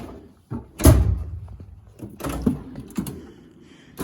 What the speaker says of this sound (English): power drawer